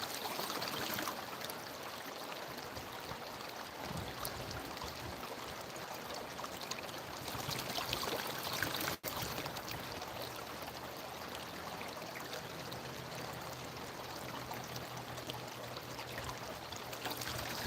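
During gold panning, water swishes and trickles in a pan in a quiet, continuous wash with faint splashes. One brief dip in the noise comes near the middle.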